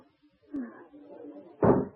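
A door in a 1940s radio drama opening onto a terrace: a soft creak and shuffle, then a louder wooden thud near the end, close and alone without talk.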